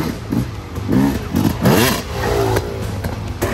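An enduro dirt bike engine revs hard off-road, with repeated rising and falling throttle bursts and mechanical clatter close by, loud and uneven as the bike churns through rough ground.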